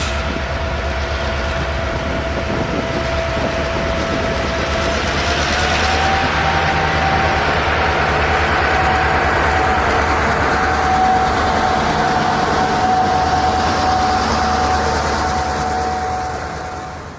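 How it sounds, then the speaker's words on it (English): Canadian National local freight train L564, a Sunday-through-Friday local between Jackson and Byram, Mississippi, rumbles steadily and loudly close by, its wheels and cars rolling past in a continuous roar with a faint steady whine. "This is Canadian National's local train L564, a Sunday through Friday local freight between Jackson and Byram"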